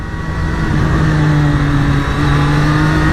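A Kawasaki Z900 motorcycle engine runs loud and close with a steady, sustained growl and a constant pitch throughout, and nothing else is heard over it.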